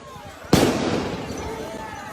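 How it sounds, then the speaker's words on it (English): A flashbang grenade goes off during a street protest with one sharp, loud blast followed by a long ringing, rumbling decay, heard alone without speech. "We see the flashbangs are out."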